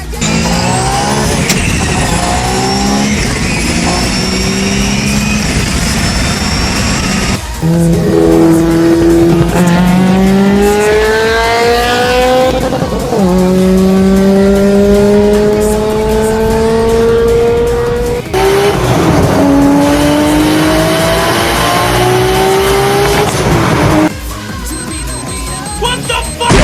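A car drives hard in a video game, with loud continuous engine revving that rises through repeated gear changes, and high tire squeals layered over the engine drone.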